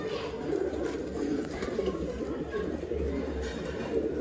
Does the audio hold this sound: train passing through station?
no